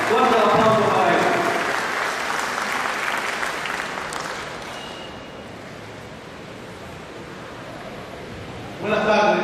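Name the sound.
audience applause for a poet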